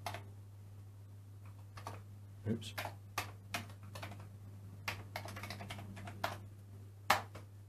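Keystrokes clatter on a Commodore computer keyboard, a run of sharp irregular taps with steady electrical hum beneath; a voice murmurs briefly partway through.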